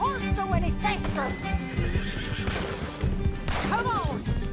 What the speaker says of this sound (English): Can't this horse go any faster?